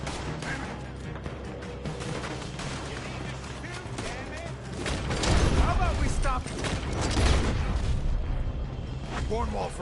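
Gunfire in Red Dead Redemption 2 rattles through a dense, noisy mix of shots and booms, growing louder in the second half, with people shouting over it.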